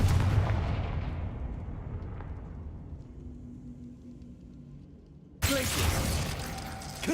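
A Confringo fire spell blasts in the Hogwarts Legacy video game. A loud explosive burst decays into a long rumbling tail, then a second sharp blast hits near the end.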